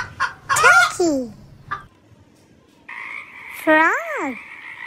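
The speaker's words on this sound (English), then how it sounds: "frog" A frog croaks in two bursts, the first a raspy, rising call and the second a longer buzzing croak with a warbling tail, close and clear with no voices.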